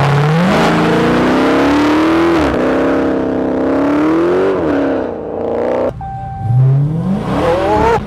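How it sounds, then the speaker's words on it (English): A Dodge Challenger Hellcat with 717 horsepower accelerates at full power in track mode. Its loud supercharged engine climbs through several gears, with sharp rising whines and brief dips at each shift, heard close and alone. "I'm going for a drive, and let me select the track mode, and it will give you full power, like 717 horsepower"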